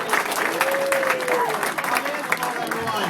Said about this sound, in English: I want you to bring him up with a nice round of applause